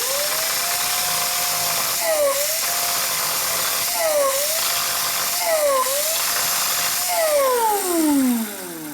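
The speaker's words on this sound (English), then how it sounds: "Oh, so you are going to grind it off." A high-pitched power grinder takes rust off a rusty 1952 Harley-Davidson Panhead motorcycle part. The whine is loud and close, dipping and rising in pitch as the tool bites the metal and eases off several times over nine seconds.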